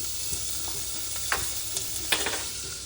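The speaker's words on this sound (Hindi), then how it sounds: "और उसके बाद में गाइस हम यहाँ पर पालक डालेंगे" Spinach sizzling in hot ghee in a pan, a constant close frying hiss with a few scraping stirs of a spoon, no talking.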